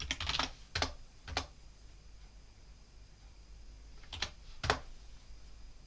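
A computer keyboard clicks in short bursts as a Linux terminal command is typed, a few quick clustered keystrokes, a pause, then two more taps, close and fairly quiet.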